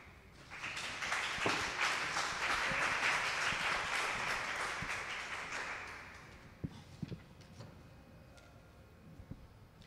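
An audience at a nutrition lecture on everyday water use and conservation claps warmly: dense, sustained applause that swells and then fades out over several seconds into a few scattered last claps.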